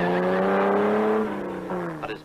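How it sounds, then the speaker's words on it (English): A Porsche rally car in the 1958 Coupe des Alpes climbing a mountain road: a loud, strained engine note holding high, then dropping as it backs off, heard close with a voice over it. "The Porsche is frantically trying to make up time lost further down."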